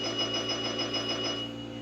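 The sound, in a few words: bell sound from the video game Railroad Tycoon II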